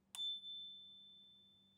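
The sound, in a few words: little bell on a Mokwheel Flint Pro e-bike ringing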